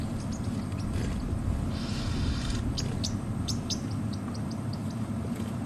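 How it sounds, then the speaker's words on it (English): A very noisy bird calls on an African safari drive, giving a run of sharp, electric-sounding chirps repeated at a quick steady pace above a constant low vehicle engine rumble. "That very noisy bird."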